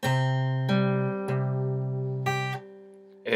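A clear guitar string is plucked several times, each note ringing and fading before the next pick, close and alone with no voices.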